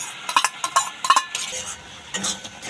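Egg bhuji being stirred into a cooking dish, heard as a close run of metal spoon scrapes and clinks against the pot in quick irregular bursts, then a pause and one more scraping stir, with no talking.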